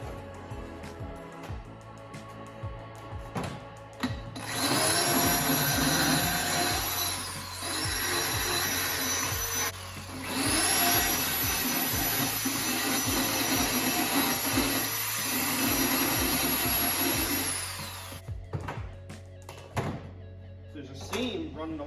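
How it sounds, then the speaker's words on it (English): Reaming the chop-saw-cut end of a steel trailer axle tube with a power tool, whining in two long loud runs split by a short pause, with knocks and handling sounds before and after and someone talking. "I just got to ream it where I cut it off with the chop saw."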